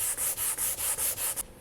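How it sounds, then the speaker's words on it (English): An IKEA dresser is sanded with open-pattern sandpaper on a handle, giving eight quick rhythmic back-and-forth rasping strokes, close and loud, ending abruptly. "I'm just going to give the whole unit a good sanding."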